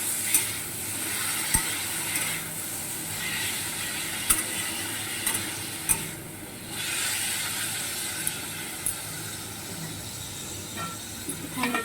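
Chapalata greens cooking in a pan with salt and turmeric, a steady soft sizzle and hiss with occasional sharp clicks of stirring, close and moderately quiet.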